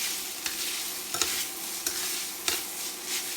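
Rinsed boiled noodles going into a hot pan of beef and vegetable stir-fry, giving a steady soft sizzle with several sharp scraping clicks of stirring spaced through it, no talk.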